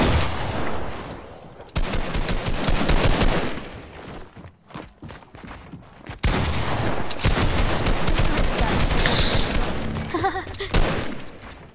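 Rapid bursts of gunfire from a Fortnite box fight, loud and dense with sharp repeated shots in two main stretches separated by a brief lull.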